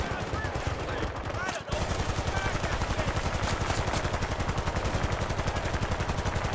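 Sustained automatic fire from an M60 machine gun in Battlefield Bad Company 2, a rapid steady rhythm of loud close shots that runs almost unbroken after a brief pause near the start.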